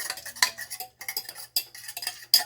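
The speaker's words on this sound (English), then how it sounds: "Stir that in and make a cheesy roux." A utensil stirs 2.5 ounces of grated parmesan into a roux in a pot, making a quick series of short scraping and clinking strokes with brief gaps between them.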